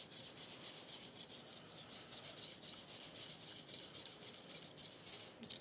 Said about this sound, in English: I'm gonna whisk that guy in.